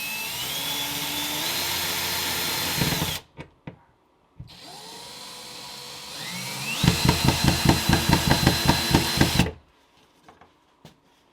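An electric drill whirs loudly in two long bursts, the second pulsing in a fast rhythmic chatter, with short clicks during the pause between.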